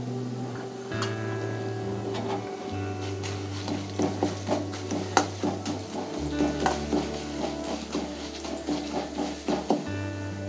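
Mustard seeds and cumin sizzle and crackle in hot oil, a steady fizzing bed with frequent sharp pops, close and continuous, over a low electrical hum.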